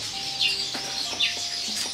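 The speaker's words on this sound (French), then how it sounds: "Brenda, voilà tes copines là-bas, sur l'arbre là. Les oiseaux là" Birds in a tree chirp and call outdoors, several bright sharp tweets spaced through the moment, moderately near over a soft background hum, with no talking.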